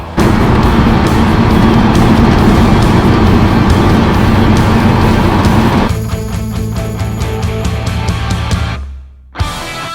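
A 1979 Chevy C10 truck, carburetor-fed, drives along the road with a loud, steady engine roar and tire and wind noise; the tone shifts partway through, then the sound cuts abruptly near the end.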